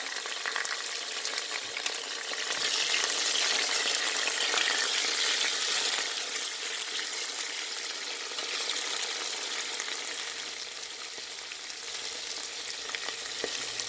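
Sliced onions and green chillies frying in hot oil in a pan for crab biryani, a steady loud sizzle that swells and settles, close and continuous with no talking.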